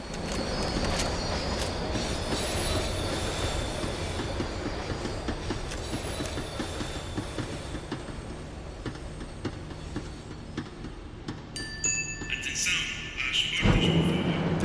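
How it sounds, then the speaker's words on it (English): A tram rumbles and clatters along rails in the video game Max Payne 3, a dense continuous roar with wheel squeal tones that gradually thins as it slows, ending in quieter hiss and a clunk. "The tram was slowing down, and I'd only just gotten on board."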